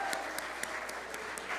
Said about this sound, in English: let's just give everybody a round of applause who's helped with this service